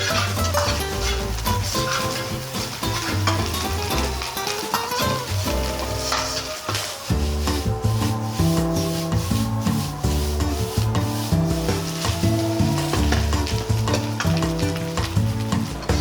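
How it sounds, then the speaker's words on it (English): Egg fried rice being stir-fried and tossed in a wok on an induction stove: loud continuous sizzling with rhythmic scraping and stirring strokes, steady and close throughout, while background music plays underneath. "Stir fry and toss them."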